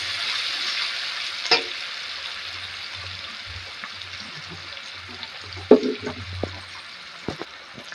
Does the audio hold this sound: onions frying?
yes